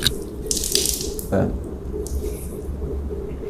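Water splashing as it is poured over the face during Islamic ablution (wudhu), a few short pours and splashes close by against a quiet background.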